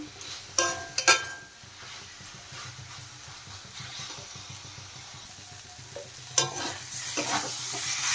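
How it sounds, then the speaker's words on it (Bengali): Fried soybean chunks sautéed in masala, stirred in a pan with a steady sizzle and scraping, plus a few louder spatula clanks early and late, close with no talk. "সয়াবিনগুলো মশলার সাথে ভালো করে আবার কষিয়ে নেব আমি।"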